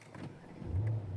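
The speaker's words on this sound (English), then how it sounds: "foot on the brake, start the vehicle." A Mercedes Brabus S500 S-Class coupe, left-hand drive, starting up: a brief low cranking rumble that settles into a steady, close engine idle hum, loud and alone.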